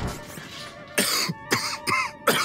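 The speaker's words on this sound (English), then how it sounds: "Whoa! He's coughing up a storm." A burst of several harsh coughs in quick succession, close and fairly loud, following a brief quiet stretch.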